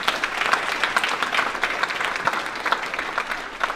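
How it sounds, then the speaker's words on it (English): Dense applause from an audience at a Black History Month guest speech, sustained for a few seconds with individual claps standing out sharply, no talking over it. "Can we give them a round of applause?"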